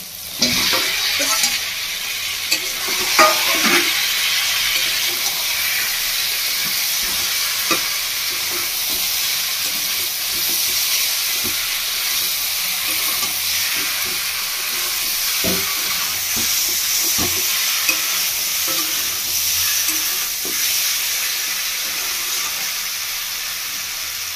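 Country chicken sautéing with spices in a pan over medium heat, an even, steady sizzle throughout with light intermittent clicks and scrapes from stirring.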